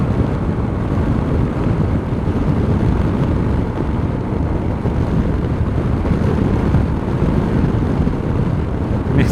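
A Sym Joyride 300 scooter speeds up to join traffic on the road from Golubac Fortress to Belgrade, its engine buried under steady, heavy wind roar that stays loud and even throughout.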